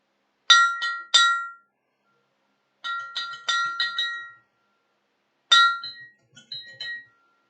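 A bell in a blacksmith's forge rings in three separate bursts, each a cluster of bright metallic strikes with short ringing decay, separated by silence.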